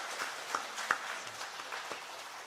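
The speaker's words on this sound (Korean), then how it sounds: "우리 가족들을 환영하는 의미에서 뜨거운 환영의 박수 할까요?" An audience at a church service for an ordination and retirement ceremony, on the congregation's 70th anniversary, claps in welcome. The applause is soft and somewhat distant, a steady patter of many hands with a few sharper claps.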